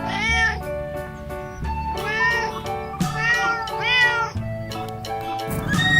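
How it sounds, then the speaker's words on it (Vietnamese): A cat gives several drawn-out meows one after another, close and loud with rising and falling pitch and no talking. "Con mèo."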